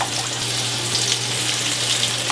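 Battered onion rings fry in hot oil at 185 °C, giving a steady, close, bubbling sizzle with a low hum underneath.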